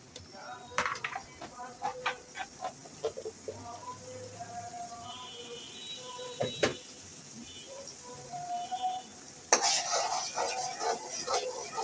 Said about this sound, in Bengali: পেঁয়াজ কষানো শেষ, একটু লালচে বাদামি হয়ে আসলে আদা রসুন পেস্ট